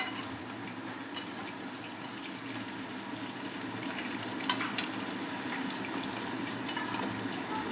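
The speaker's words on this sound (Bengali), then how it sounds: "এই যে আমি পকোড়াটা ভাজছি" Pakoras deep-frying in hot oil: quiet, steady bubbling and sizzling, with occasional faint crackles and pops throughout.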